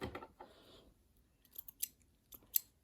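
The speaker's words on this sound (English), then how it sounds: "So here I go ahead and trim off the excess threads." Scissors snip off excess threads on a sewn fabric face mask with a filter pocket: a few quick, close, soft cuts at the start and several faint clicks and snips later.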